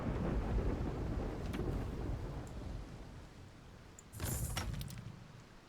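Rolling thunder and storm noise over Artisia in the video game Mount & Blade 2: Bannerlord, a loud low rumble that fades down, then a sharp crack of thunder bursts in near the end; no talking.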